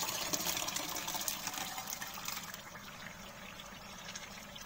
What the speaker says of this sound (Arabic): بس كده هنزل بالطماطم اللي انا عصراها.